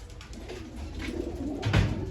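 Pigeons coo in a loft among a flock of about 48 birds, a low soft rumbling murmur running steadily through the whole stretch, fairly close, with a slightly stronger swell near the end and no talk.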